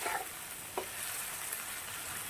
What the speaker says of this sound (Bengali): পেঁয়াজটাকে ভালো করে লাল লাল করে ভাজতে হবে।